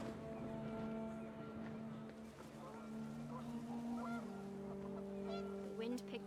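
Panicked geese in a walking-simulator video game give a few honks over a sustained, droning low tone resembling a foghorn, with a voice talking over part of it.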